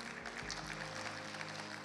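A church congregation applauds in praise at a Spanish-language Bible study service, steady clapping filling the room for a couple of seconds with no speech on top.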